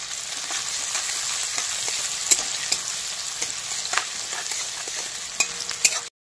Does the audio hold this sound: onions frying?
yes